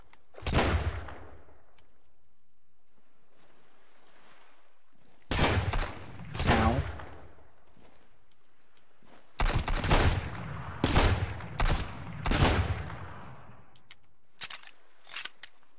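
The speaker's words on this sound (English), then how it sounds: "Shotguns to the body isn't gonna help me kill these guys very easily." Shotgun blasts in the survival game Sunkenland, a series of loud, sharp reports in uneven bursts: one early shot, a pair around the middle, then a rapid cluster of several shots and a final lone blast, separated by quiet gaps.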